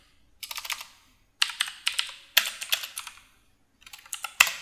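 Computer keyboard typing heard up close as several quick bursts of clicking keystrokes, with short pauses between bursts and a sharper final key press, while setting up a home router.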